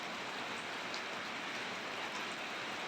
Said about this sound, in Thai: มีฝนครับฝนตก